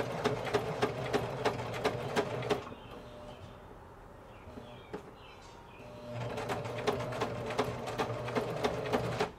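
A sewing machine stitches a pleat with rapid, close mechanical needle clatter. It pauses for a few seconds, then runs again in reverse to secure the stitch, with no talking.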